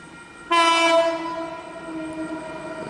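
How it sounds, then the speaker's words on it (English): A train horn blares suddenly and sustains, with the rumble of a passing train continuing underneath, close and loud, at Wondabyne station near Sydney. "Got another train passing."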